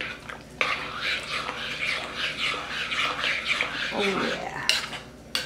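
A spoon stirs pork around a pot, giving continuous scraping and clinking of metal with rhythmic rubbing strokes, close up, with a brief spoken remark.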